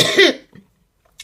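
A loud, close cough bursts out in one harsh fit, then trails into near silence with a faint breath and a small click at the end.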